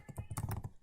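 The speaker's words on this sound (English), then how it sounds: "So I do believe you can just start typing" Quick keystrokes on a computer keyboard in a Windows settings search, a brisk burst of about a dozen close, crisp clicks with no talking.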